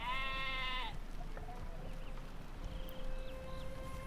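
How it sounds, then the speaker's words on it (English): Several sheep bleats with a harmonic, wavering tone, over steady background noise and faint melodic tones, from the game Lord of the Rings Online. "I still hear the sheep."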